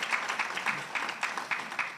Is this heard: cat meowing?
no